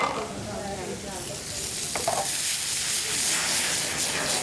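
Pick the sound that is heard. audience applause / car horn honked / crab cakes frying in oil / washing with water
crab cakes frying in oil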